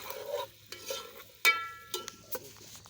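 Beef stirred in ghee in a karahi, with scattered scrapes and clinks over a faint sizzle, close and fairly quiet.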